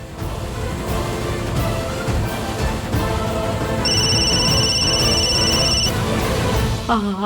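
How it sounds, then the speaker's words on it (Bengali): A telephone rings with a bright electronic tone for a couple of seconds over a background of music and voices. "আরতির ফোন"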